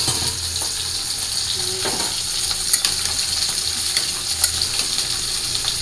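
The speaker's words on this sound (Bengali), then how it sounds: "তো দিয়ে দিলাম মাছগুলো ভাইজা।" Fish frying in a pan with a constant bright hiss and sizzle, close and fairly loud, with occasional faint clinks and stirring sounds and no talking.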